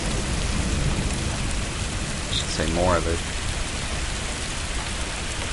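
Steady heavy rain pours down during a storm with hail, a dense constant hiss throughout, while someone speaks briefly in the middle.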